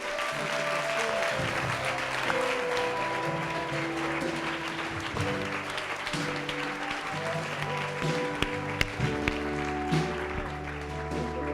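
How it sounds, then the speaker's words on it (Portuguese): Church congregation applauding during a worship service, sustained clapping from many hands filling the room, with scattered voices and music tones underneath. "A igreja pode aplaudir ao Senhor?"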